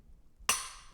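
A single sharp, dry metallic snap from a pistol's trigger being pressed in dry fire with a Mantis X10 training sensor attached, close and crisp, landing midway after quiet room tone.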